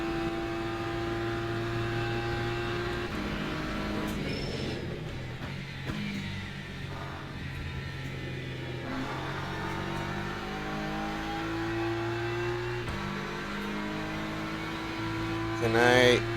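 Race car engines in the sim racing game Le Mans Ultimate drone and rev continuously, with shifting pitch as cars accelerate and jostle for position, loud and close throughout.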